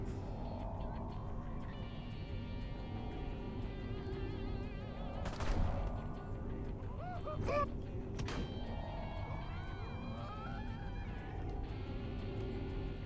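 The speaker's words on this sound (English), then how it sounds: "A flipping hippie's shooting at me, now everyone's shooting at me" Cops and hippies shooting during Destroy All Humans 2 Reprobed gameplay on PS5, a low rumbling bed of distant gunfire with a few sharper bursts of shots breaking through midway amid game music.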